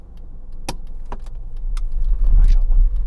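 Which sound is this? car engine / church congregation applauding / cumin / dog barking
car engine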